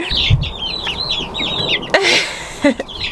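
Three-week-old chicks in an outdoor brooder coop give a rapid run of close, high peeping chirps, followed by a few louder bird calls and bumps, with no talk.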